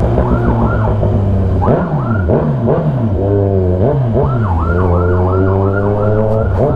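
A police siren wails loudly close behind a Kawasaki Z1000R motorcycle, its sweeping rising-and-falling tone cycling steadily with no break and no talking.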